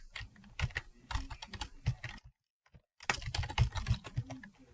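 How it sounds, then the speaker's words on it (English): Someone types on a computer keyboard while entering names into a table, making a close, steady patter of keystrokes with a brief pause in the middle. "and then I'll type in Laura."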